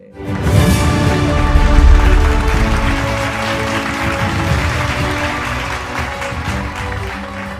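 An audience at an award ceremony breaks into applause, a dense, loud wash of clapping that swells quickly and then holds steady before gradually thinning, with no talk over it.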